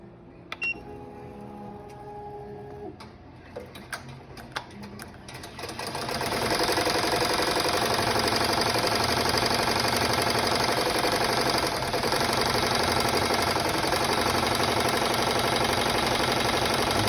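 An automatic embroidery machine stitching a chenille design on fabric, starting with scattered clicks and ticks before settling into a loud, steady, rapid mechanical whirring that runs on without break, close and with no talking.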